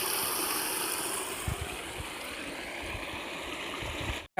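A pump motor drives water into an irrigation channel, producing a steady, unbroken rushing flow with no voices, ending abruptly.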